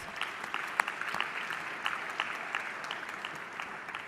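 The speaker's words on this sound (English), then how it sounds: "So I want us to give them a round of applause." Steady audience applause at the opening ceremony of the 13th WTO Ministerial Conference, a dense even patter of many hands clapping at moderate distance, continuing without pause and with no speech over it.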